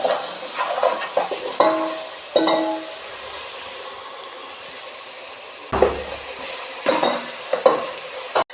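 Ginger garlic paste sizzles steadily in a pan while a spoon stirs it, scraping strokes coming in bursts over the constant frying hiss, close up with no talk.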